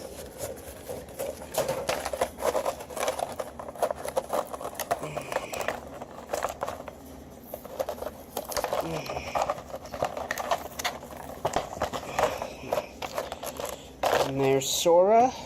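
Plastic packaging of a Kingdom Hearts II Diamond Select Sora action figure crinkles and rustles in repeated handling bursts while being opened, with a voice talking over much of it.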